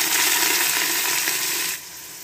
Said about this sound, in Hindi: आयल हमने पहले गर्म होने के लिए रख दिया था तो अब हम इसमें डालेंगे प्याज